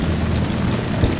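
Steady rain falls on a fishing boat during a bream tournament day, a dense continuous patter with low rumbling wind noise and no clear talk.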